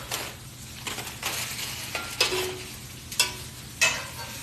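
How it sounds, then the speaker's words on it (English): A steak sits on a grill beside foil, giving a soft steady sizzle. Several sharper scraping and clinking hits from handling the meat or utensils punctuate it, and there is no talking. "I'm going to throw this steak right on top of that."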